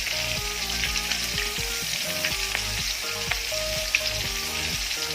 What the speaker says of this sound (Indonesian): setelah itu kita goreng sisanya ya guys